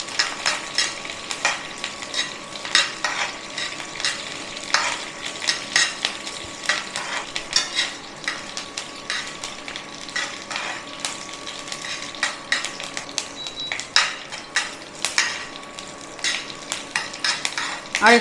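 Curry leaves fry and crackle in a pan over a steady sizzle, with stirring and utensil scrapes against the pan. The sound is close and continuous, with no voices.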